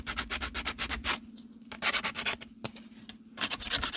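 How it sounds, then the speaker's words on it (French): A metal file rasps back and forth along the edge of a ruler in rapid repeated strokes, then pauses, then several more quick scraping strokes, close and fairly loud with no talking. "un grand coup de lime"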